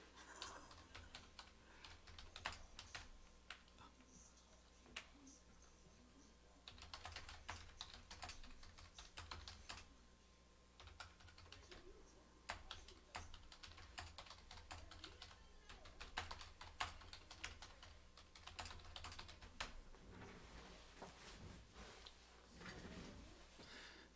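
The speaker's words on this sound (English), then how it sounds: "Do I type with just 2 fingers? No, every now and then I throw my thumb in, sometimes 3." Slow, uneven key presses on a computer keyboard typed with two fingers, a steady stream of clicks and taps with short pauses, close by over a faint low room hum.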